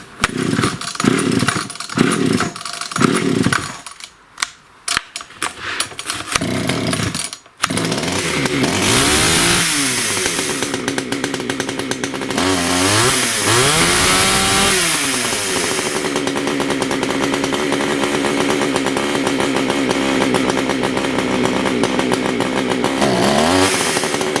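Old Pioneer chainsaw engine sputtering through several short pulls and bursts, then catching and running continuously, loud and close, its revs rising and falling and running a bit lean.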